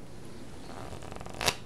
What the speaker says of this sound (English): God, that's a solid sounding shuffle.